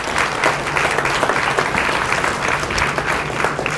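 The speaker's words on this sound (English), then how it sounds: "let's give them a round of applause." An audience at a community grant forum in Valemount, British Columbia, gives a round of applause: steady, close clapping from many hands, with no speech.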